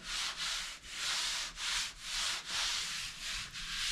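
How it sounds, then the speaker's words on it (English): A sanding block works over light tan primer on a vehicle body, following the contours: steady, rhythmic back-and-forth rasping strokes, about two per second, close and continuous with no talking. "And then you sand it with the contours, okay,"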